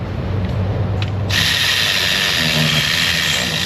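In an auto shop, a hand ratchet loosens a belt tensioner, giving a rapid run of close clicking pawl sounds, then a louder whirring tool-like noise takes over.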